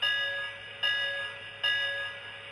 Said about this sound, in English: And here's the bell.